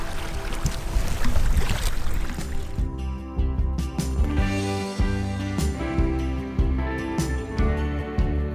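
Sailboats motoring under engine power off Nova Scotia, a steady low mechanical drone with faint wind and water noise, loud and continuous throughout.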